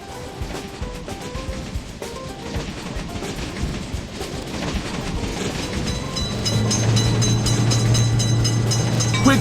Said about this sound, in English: Quick train is noticed.